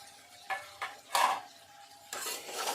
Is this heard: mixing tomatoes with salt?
yes